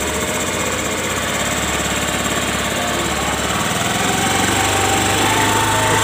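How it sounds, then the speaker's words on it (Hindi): Honda Grazia scooter engine held at raised revs during carburettor adjustment, a steady buzzing drone with a rattly, knocking texture, close and continuous, rising slightly toward the end. "सबसे पहले इसकी इंजन की आरपीएम बढ़ाओ।"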